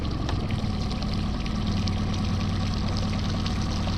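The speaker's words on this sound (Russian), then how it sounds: "тем временем наш мотор прогрелся. Шепчет он." A warmed-up four-stroke outboard boat motor idles with a low, even, continuous hum that holds steady throughout, with no talking.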